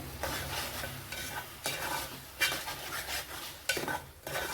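A spoon stirs mashed roasted eggplant bharit with plenty of fresh coriander in a pan, giving soft scraping strokes and a few sharper knocks against the metal amid a low sizzle, with no voices.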